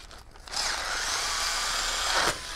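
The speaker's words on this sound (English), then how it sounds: "We were able to cut through a bunch of roofing underlayment there" A cutting tool slices through folded roofing underlayment in one sustained, close, gritty rasp lasting about two seconds, ending in a sharp burst.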